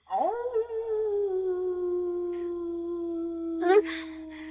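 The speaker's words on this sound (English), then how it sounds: "The ominous howl of an unseen wolf had her rocketing to her feet" A long, mournful wolf howl rises and holds a steady tone, ending in a brief wavering break, alone in otherwise quiet surroundings.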